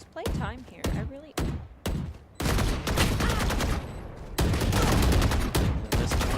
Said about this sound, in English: Bit of gunfire being exchanged.